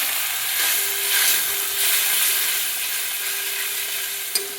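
Yogurt poured over okra and roasted masala in a hot pan gives a close, even sizzle that hisses steadily throughout, ending with a sharp clink of a utensil.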